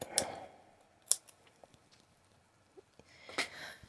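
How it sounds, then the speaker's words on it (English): Sharp scissor snips cutting ribbon ends at irregular intervals, a few crisp cuts separated by quiet handling noise, close and fairly soft. "Ideally you want nice sharp scissors for cutting ribbon."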